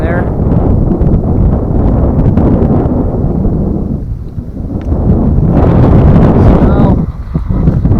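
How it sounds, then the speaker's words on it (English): Strong, chilly wind blowing off a lake at a cloudy, drizzly campsite, roaring and buffeting the microphone continuously at close range with gusty swells, while a voice briefly speaks over it. "I got the tarp pretty secure with that wind coming off the lake from there."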